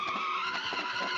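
Car tires skid continuously while a car does donuts in BeamNG, a loud, steady, high-pitched squeal that holds for the whole moment with slight wavering.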